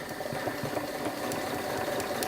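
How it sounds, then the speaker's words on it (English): A domestic sewing machine stitching small lavender bags runs with a fast, steady mechanical rattle and motor hum, continuous and moderately quiet, with no voices. "use the flywheel at the right hand side of your sewing machine if you need to do single stitches"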